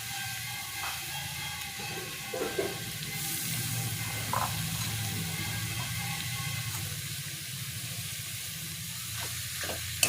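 Boiled jackfruit is stirred into spices frying in a pan, giving a steady close sizzle with soft scraping strokes throughout.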